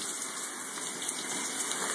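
Steady broadband water spray from a running shower, a continuous gushing hiss that stays even and close throughout with no speech over it.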